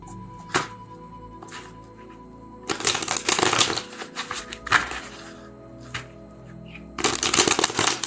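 Tarot cards being shuffled in several quick riffling bursts, with taps and pauses between them, close and fairly loud.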